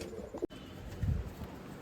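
Racing pigeons on a rooftop during a pigeon club tournament in Amritsar, with a faint low cooing that rises briefly near the end over quiet outdoor background.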